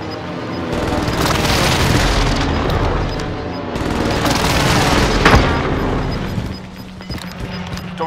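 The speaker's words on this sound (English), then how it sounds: "Fire the airstrike here. This is Phoenix 3. Strike inbound." Airstrike explosions in Call of Duty Warzone Pacific land as a dense, sustained barrage of deep booms and crackling blasts, loud and continuous for several seconds before easing off.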